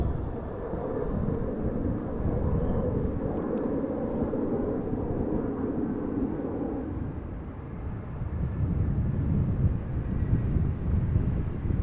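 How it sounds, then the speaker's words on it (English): KLM Embraer 190 arriving at Amsterdam Schiphol in gusty crosswind, a low rumbling jet drone buffeted by wind noise, steady throughout. "So Embraer 190 arriving from Manchester. KLM flight 1074."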